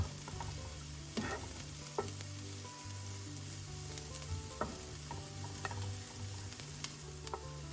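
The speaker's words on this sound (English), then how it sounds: "You want to make sure that you cook the curry for about 5 minutes so it just develops the flavors and it doesn't taste raw" Curry sizzles in a pan for Jamaican curry shrimp, a soft, steady frying hiss with occasional light taps and stirs against the pan, quiet and close.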